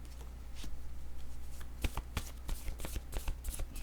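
Playing cards being shuffled and handled for a French tarot-style card reading, with a run of crisp riffling snaps and taps over a steady low hum, close and fairly quiet.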